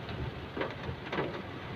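Steady heavy rain with no wind hisses throughout a morning motorcycle ride, with a couple of brief louder swells, and no one speaks.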